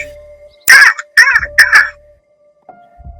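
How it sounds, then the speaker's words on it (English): Crow cawing three times in quick succession, loud and close, harsh bursts over a steady faint hum, then quiet. "A crow saw the rabbit running for her life. He flew into the forest crying."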